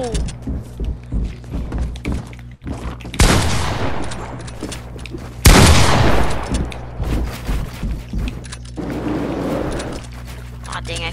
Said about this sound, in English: I just noticed how can you not shoot me while grappling up?